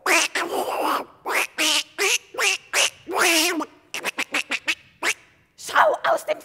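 A duck quacking in a German children's radio play, a string of loud, close nasal quacks in uneven bursts, some rapid and clipped, likely voiced by a performer imitating the bird.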